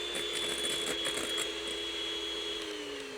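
A table-model electric mixer beats genoise batter with a continuous whirring motor drone whose pitch slowly sinks, close and steady with no voices.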